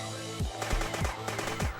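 Gunfire in the video game Dead Bits, a few rapid bursts of synthetic shots repeating at an uneven rhythm over a low steady backing track, fairly quiet overall.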